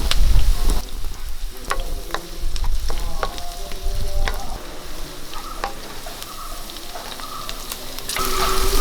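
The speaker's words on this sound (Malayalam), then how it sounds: "ഉള്ളിയൊക്കെ വഴറ്റാൻ വേണ്ടി ചേർ വെളിച്ചെണ്ണ ഒഴിച്ചു കൊടുക്കാം നമുക്ക് ഒരു സ്പൂൺ ഇഞ്ചി അരിഞ്ഞത് ഇട്ട് കൊടുക്കാം ഒരു സ്പൂൺ വെളുത്തുള്ളി രണ്ട് പച്ചമുളക്" Chopped ginger, garlic and green chillies fry in coconut oil, giving a loud close sizzle with stirring clicks and scrapes, steady apart from a brief louder burst near the end.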